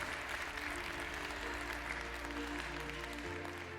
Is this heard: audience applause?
yes